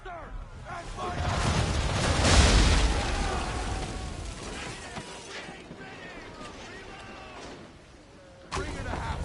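Ship cannon fire in Assassin's Creed III, a broad rumbling blast swelling to a peak then decaying into a long roar, followed later by another sharp burst, with voices calling out over the din.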